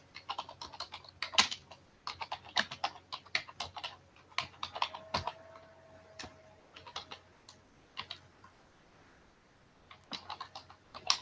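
Someone types on a computer keyboard during a database administration session, making close, crisp key clicks in irregular bursts separated by brief pauses, with no talking.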